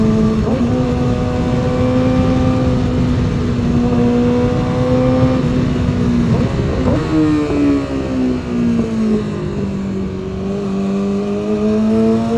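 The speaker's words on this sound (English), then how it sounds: "when I slow down, I downshift, there's like a lot of popping going on under the hood" A Yamaha R6 sport bike engine revs and drops through gears with rising and falling whine, loud and close throughout; any downshift pops are not clearly separable from the steady engine roar.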